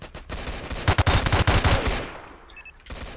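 Rapid automatic gunfire in the Roblox game City of Vancouver, a loud burst of about ten quick shots lasting roughly a second, fading out afterward.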